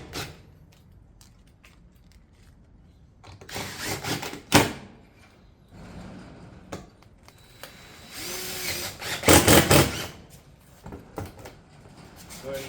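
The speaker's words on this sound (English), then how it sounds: "Getting our fasteners in the bottom and the top of the panel." A power tool drives fasteners into the top and bottom of Pine Crest shake siding panels, giving short, loud bursts of whirring with clacks of handled panels in between, while someone talks.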